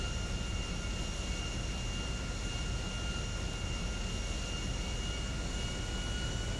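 An airliner's jet engines roar steadily as it climbs after takeoff in GTA 5, a loud, unbroken broadband drone with a faint steady whine on top and no talking.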